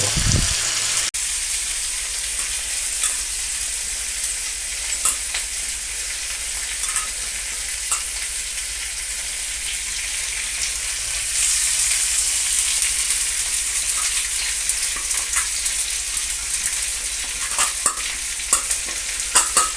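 Bhakur fish masala frying in a pan, a loud continuous sizzle and crackle of hot oil with occasional stirring clinks and pops, steady throughout with no talking.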